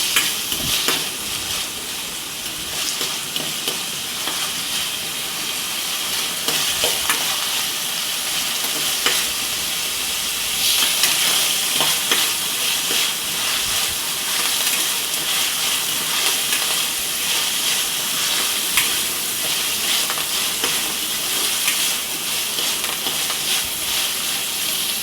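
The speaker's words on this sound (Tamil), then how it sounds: "நல்லா வதக்குங்க." Onion, curry leaves and tomato sauté in a pan for fish curry: a steady, loud sizzle and hiss runs throughout, with stirring scrapes and crackles but no talking.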